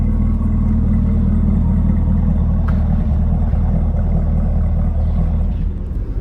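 A Chevrolet Camaro ZL1's engine rumbles steadily and loudly from inside while driving, a continuous low drone with no voices over it.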